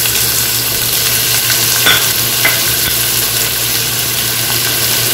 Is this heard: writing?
no